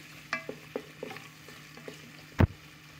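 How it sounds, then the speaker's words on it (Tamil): Sliced onions sizzle softly in a pan while being stirred, with intermittent spoon scrapes and one louder knock near the end, close and fairly quiet. "இப்போ வந்து வெங்காயம் போட்டுக்கலாம். திரும்பியும் நல்லா மிக்ஸ் பண்ணி விட்டுக்கலாம்."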